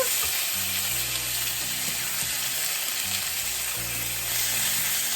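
Chicken breast fries in a pan, giving a steady loud sizzle and crackle of hot grease throughout, with a few soft low clunks and no talking.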